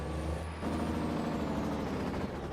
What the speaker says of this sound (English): Oh, they even have Jake brakes on this rig.